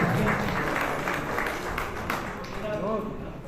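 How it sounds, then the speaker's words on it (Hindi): A crowd claps steadily in a dense burst of applause, fading slightly toward the end, with some voices mixed in. "एक बार जोरदार तालियां"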